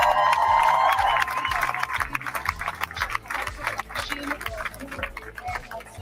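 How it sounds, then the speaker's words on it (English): A crowd cheers and applauds outdoors as the first Israeli hostages are released by Hamas under a ceasefire, the roar loudest at the start, then a sustained, rippling din of claps and shouts. "And another big cheer from the crowds here"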